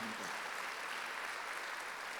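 A church congregation at a Sunday worship service applauds together, with dense, even clapping that continues steadily throughout, moderately loud with a faint voice at the very start.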